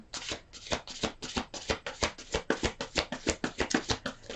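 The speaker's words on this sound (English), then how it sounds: "One more shuffle here." A tarot deck is riffled and shuffled repeatedly at close range, a quick rhythmic series of crisp flapping bursts, with no talking.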